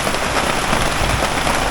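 Steady rain falls on a surface outdoors during a fishing trip for large carp at a wide pond, a dense, even hiss of drops holding constant for the whole stretch with no voices.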